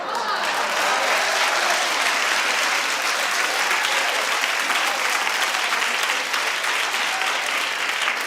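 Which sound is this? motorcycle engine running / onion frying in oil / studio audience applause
studio audience applause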